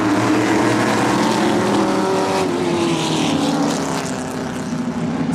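Race cars circle Wiscasset Speedway, a small oval track in Maine, as a dense, loud, continuous engine roar from several cars at once, swelling slightly as they pass, with no voices.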